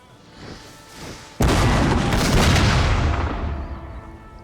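Napoleon Total War battle with musket and artillery fire: faint distant thumps, then a sudden loud roaring crash of massed fire that rumbles on and slowly fades.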